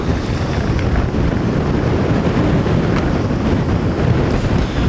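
Strong wind buffeting a racing boat on open water, a loud steady roar of gusts across the microphone mixed with washing waves, constant for the whole stretch with no voices.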